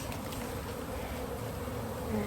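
A honeybee swarm buzzes densely around a hive box, a loud continuous hum close by with no break.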